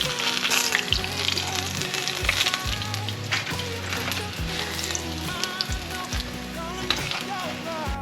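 King oyster mushroom cutlets fry in hot oil, giving off a steady, close crackling sizzle with dense spitting pops throughout and no talking.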